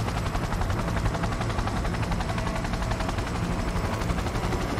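A helicopter flies over Night City in Cyberpunk 2077, its rotor thumping in a fast, steady, continuous chop under a loud, dense engine roar heard from close inside the aircraft.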